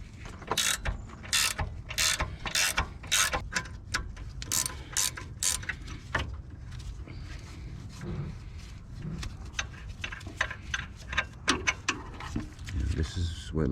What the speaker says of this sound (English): once I get them started, I use a ratchet wrench